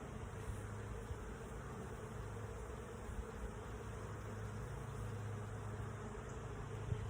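A honey bee swarm near a hive makes a steady, dense buzz that holds even and continuous throughout, with no voices over it.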